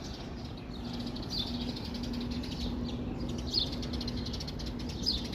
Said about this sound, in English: Noisy little bird right there.